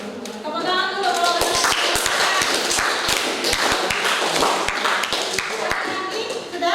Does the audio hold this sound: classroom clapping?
yes